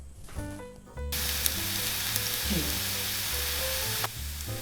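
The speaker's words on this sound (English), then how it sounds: "We're going to stir fry for about 1 to 2 minutes." Green onion and garlic sizzle and crackle as they stir fry in hot oil in a pan over medium heat, a bright steady hiss that starts abruptly and cuts off near the end.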